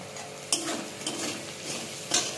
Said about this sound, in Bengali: নাড়াচাড়া করে ভেজে নেব আলুটা।